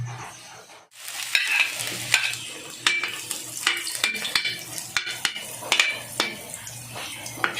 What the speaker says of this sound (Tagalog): Gigisa natin guys sa luya.